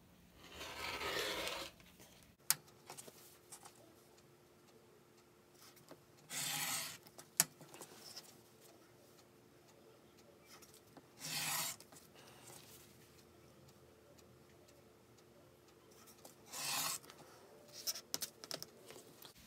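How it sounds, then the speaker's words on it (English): Excess quilt batting and backing being trimmed from quilt-as-you-go blocks, heard as several separate bursts of soft rasping rotary-cutter strokes, close and quiet, with occasional light taps and no talking in between. "I'm going to trim off the excess batting and backing from all of the"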